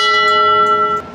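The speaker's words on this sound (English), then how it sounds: "a bell" A single loud, clear bell tone rings out near at hand, holding steady for about a second before it is cut off abruptly, with no speech.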